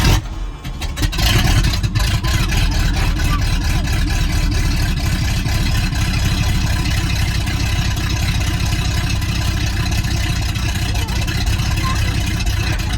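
A Ford-style 351W V8 engine firing up from cold after its carburetor is primed, a brief cranking catch followed by a loud, steady, lumpy idle rumble that carries on close by.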